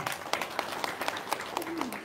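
Short burst of scattered, fairly faint clapping from an audience at an Indonesian religious talk, with individual claps audible and a voice briefly underneath.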